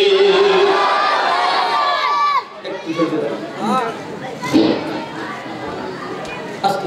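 Crowd at a religious mahfil gathering shouts takbir in loud massed bursts, voices rising together over a lively background of chatter, with a second wave of shouting partway through.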